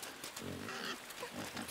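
A pig in the game INSIDE gives short, close grunts and snorts in a quick irregular run, fairly quiet overall.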